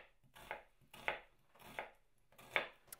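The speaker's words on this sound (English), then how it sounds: "Onion chopping on an industrial scale." Onions being chopped on an industrial scale as the base for a chicken masala curry: four or five steady, close knife chops on a board, evenly spaced with no talking.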